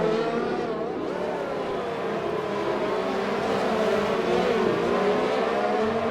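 Racing-game race car driving in wet conditions at XRL Dev's Netherlands round, its engine whining and shifting pitch steadily, close and continuous over a wash of tyre spray, with no talk.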